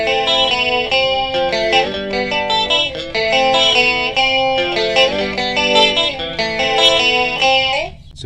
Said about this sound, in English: So 82 introduces some echo or a reverb or something.